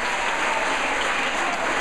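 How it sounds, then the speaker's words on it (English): Audience applause at a parenting and small business graduation ceremony in Jamaica: a steady, even roar of many people clapping together, held at a constant level from start to finish. "So let's give him a round of applause in his absence."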